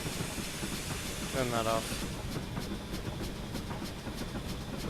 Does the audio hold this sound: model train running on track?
yes